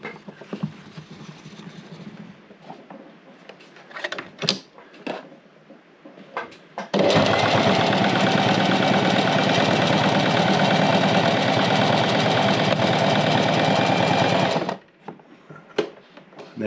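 A sewing machine stitches material in one continuous loud whirring run of about eight seconds, framed by quieter handling clicks and fabric shuffling before and after.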